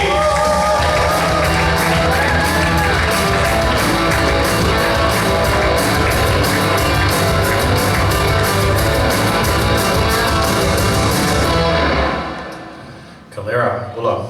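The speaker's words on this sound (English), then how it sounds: "keep those hands clapping as we welcome up Calera to the stage" A live event audience claps and cheers in a steady, dense wash of applause with shouts and whoops for a performer coming on stage, fading out near the end.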